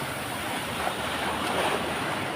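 Typhoon-driven ocean surf pounding the shore at Baler, Aurora, a steady broadband roar with gusty wind buffeting the microphone throughout.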